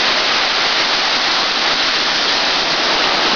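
A waterfall roars as a loud, dense, unbroken wash of rushing water, close and steady throughout.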